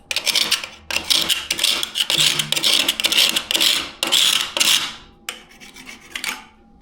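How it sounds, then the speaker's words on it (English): A knife scrapes along the grout joints between freshly laid tiles in a series of loud, gritty strokes, each lasting about half a second, with a few short faint scratches near the end. "get the spacers out, scrape the joints"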